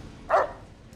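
A single short dog bark rings out once in the video game Fallout: New Vegas Old World Blues, clear and fairly close over a quiet low background.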